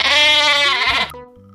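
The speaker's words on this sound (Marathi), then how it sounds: "शेळीच्या या आवाजाला आपण बे बे म्हणतो" A goat gives one loud, close bleat, a wavering nasal cry that lasts about a second and then falls silent.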